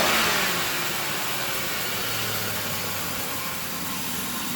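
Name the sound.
2004 Crown Victoria engine revving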